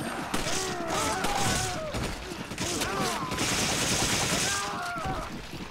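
Sheva fires rapid bursts of gunfire at enemies in Resident Evil 5, dense overlapping shots mixed with enemy shouts and cries, loud and continuous across the whole stretch.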